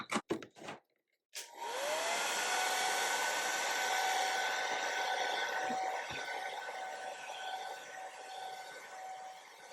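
A hair dryer is aimed at paint on an art journal page. After a few brief knocks it switches on and blows with a loud, steady whooshing roar and a rising whine that holds for about eight seconds.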